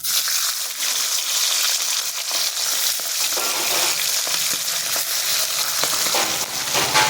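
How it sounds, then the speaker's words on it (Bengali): Fish pieces for a mustard pabda curry are slid into hot oil one at a time, starting a loud, dense, close sizzle that keeps going steadily with a few sputters and pops. "মাছগুলোকে আমি এক এক করে ছেড়ে দেব।"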